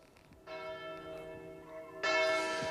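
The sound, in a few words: town centre church bells ringing at noon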